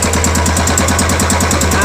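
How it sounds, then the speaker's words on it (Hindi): A Royal Enfield 350 BS6 motorcycle with a heating and engine-noise fault idles close by, its low thumping beat steady and even throughout the short stretch. "गाड़ी स्टार्ट है हमारा, सुन पा रहे हैं।"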